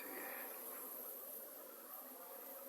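Honey bees fly near a beehive in January, a steady airy buzzing hum, faint and continuous with no talking.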